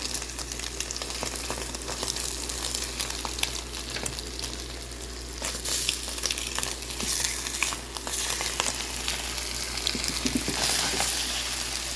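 An egg goes into a pan of tofu soup with pechay amid a continuous close sizzle and frying crackle, with faint stirring and watery bubbling and no talking.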